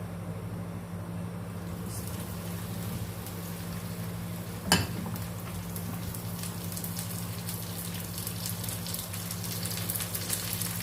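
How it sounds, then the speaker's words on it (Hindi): Okra sizzles in hot oil in a pan, a steady dense crackle throughout with one brief clink near the middle, no voices. "ऑयल गरम हो गया है। अब हम इसमें भिंडी शामिल कर देंगे।"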